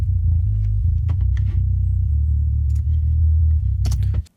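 A deep, rumbling sub bass track plays alone, low and sustained with a few short clicks over it, steady in level until it cuts off.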